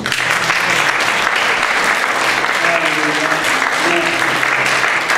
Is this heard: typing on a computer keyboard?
no